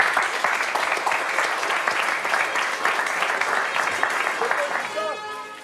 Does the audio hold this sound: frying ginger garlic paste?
no